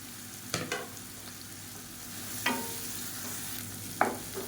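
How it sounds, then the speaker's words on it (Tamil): Chopped onions and green chilies sauté in a pan for a chutney, a low steady sizzle with three sharp scraping stirs of a spoon against the pan spaced a couple of seconds apart. "இப்போ வெங்காயம் ஓரளவுக்கு வதங்கிடுச்சு."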